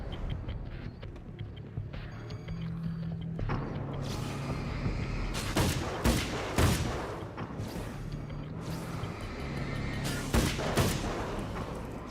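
Carbine gunfire in the video game Alan Wake: several sharp, loud shots crack out in short bursts over a low, steady ambient drone and music bed.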